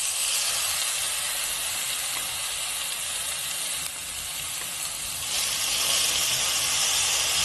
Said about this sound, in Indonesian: Ini kita tumis dulu bawang merahnya. Kalau bawang merahnya sudah agak layu, kita masukkan bawang putih.